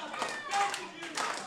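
A wrestling crowd claps in a steady rhythm to rally a young wrestler, with a few sharp bursts of claps heard over a commentator's voice.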